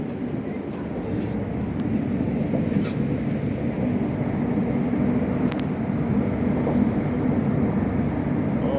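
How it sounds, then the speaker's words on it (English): A subway train rumbles past steadily at Daxing International Airport station, a broad continuous roar with faint rattling and occasional high squeals, no pauses throughout. "this is the train line"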